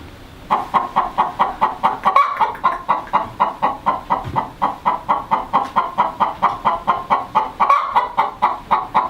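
A hen clucks in a steady, repetitive rhythm, loud and close, the calls continuing evenly with a couple of brief pauses.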